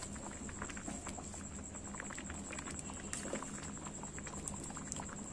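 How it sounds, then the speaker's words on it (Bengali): Broken wheat (daliya) with vegetables boiling in a pot, a steady soft bubbling and gentle simmer, faint and continuous with no voices. "আর এদিকে আমি ডালিয়াগুলো দিয়ে দিয়েছি, সেদ্ধ হচ্ছে একসাথে"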